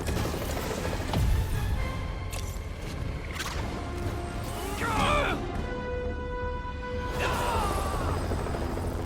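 A helicopter's rotor chop mixed with crashes, booms and rising whistling tones in the game Marvel's Spider-Man, busy and loud throughout.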